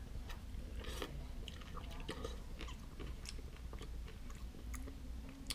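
Close, steady chewing of MyKuali Penang spicy prawn ramen with occasional crunchy bits, soft wet mouth sounds and scattered small crunches throughout.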